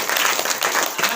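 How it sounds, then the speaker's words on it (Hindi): A congregation at a Hindi-language Saturday church prayer meeting claps together, a dense steady wash of applause filling the whole moment at close range. "ताली बजाकर बोलो।"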